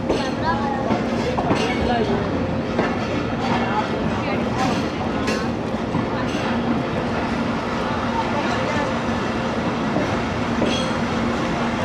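The Fareed Express passenger train rolls steadily along the rails with a continuous loud rumble, rhythmic wheel clatter and occasional squeals, heard from on board with voices in the background.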